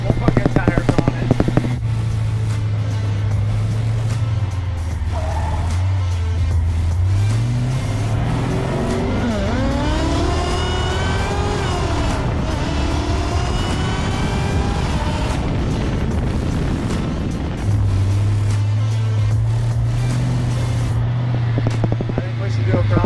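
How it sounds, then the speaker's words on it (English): A drag truck built for burnouts roars through a long, loud burnout, its engine revving up and sweeping in pitch over heavy tire noise, with voices talking over parts of it. "That's a pretty good burnout."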